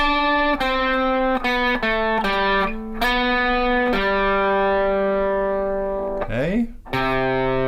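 Distorted electric guitar plays the second measure of a riff, with sustained driven notes shifting in pitch and a sliding bend near the end, loud and close.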